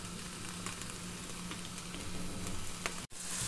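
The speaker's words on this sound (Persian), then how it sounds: "یه کمی زردچوبه اضافه میکنیم به پیاز، میذاریم تفت بخوره" Onions sizzle in a frying pan with a little turmeric, cooking for a potato samosa filling, a steady close crackling hiss that holds throughout with a brief break near the end.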